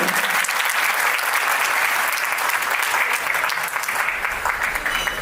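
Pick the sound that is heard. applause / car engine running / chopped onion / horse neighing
applause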